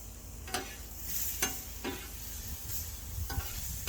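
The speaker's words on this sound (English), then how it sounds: "Let these onions soften up a little bit." Onions sizzle softly in a pan while a utensil stirs them, giving a few brief scraping sweeps over a quiet, steady frying hiss.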